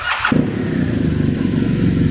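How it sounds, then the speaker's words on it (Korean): A 2018 BMW R1200GS Adventure in triple black idles with its boxer engine and Akrapovic muffler, starting with a brief clatter, then a steady, loud, close, smooth low throb with little mechanical chatter. "아크라 퍼빙 머플러도 상당히 부드러운 소리를 내고 있고 엔진에서의 찰찰거림도 상당히 적은 편입니다"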